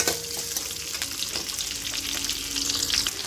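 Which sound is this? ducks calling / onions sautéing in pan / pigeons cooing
onions sautéing in pan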